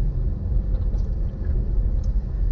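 Steady low road rumble of a car driving through suburban traffic on a short ten-minute trip, a continuous engine and tyre drone heard from inside with no talk.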